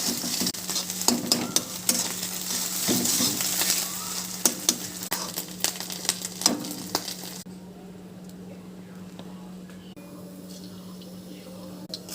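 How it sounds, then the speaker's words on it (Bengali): Egg scrambled into hot oil in a pan, giving a busy crackling sizzle with scraping stirs for several seconds, then dropping to a much softer, quieter fry. "তেলটা বেশ গরম হয়ে গেছে। এবার আমি ডিমটাকে বড় বড় কুচি করে একটু ভুজিয়া করে নেব।"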